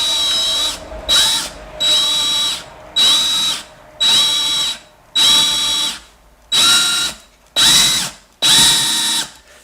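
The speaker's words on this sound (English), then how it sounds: "let's see if we can drill a hole in this" A power drill with a sharp bit bores into a plug on a Royal Enfield 350 Bullet motorcycle, whining in eight short, loud bursts with brief pauses between them.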